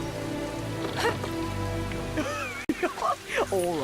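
Steady rain falls in the LEGO The Hobbit video game, a constant hiss behind a character's speech and light background music.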